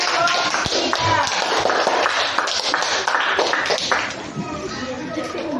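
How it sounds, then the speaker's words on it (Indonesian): A classroom audience claps for group 3 after its presentation, a dense patter of hands with chatter and movement mixed in, fading slightly toward the end. "Ya, kita tepuk tangan untuk kelompok"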